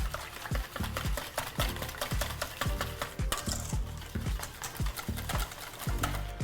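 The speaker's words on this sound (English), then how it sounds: "I'll give that a stir." A spoon or whisk stirs milk and 35% whipping cream for a panettone bread pudding mix, a quick steady rhythm of clinking strokes against the bowl, close and continuous with no talk.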